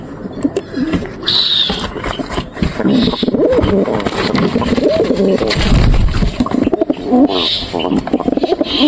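Pigeons coo loudly and close up in a run of deep, warbling calls, with short bursts of rustling and brief higher sounds between them.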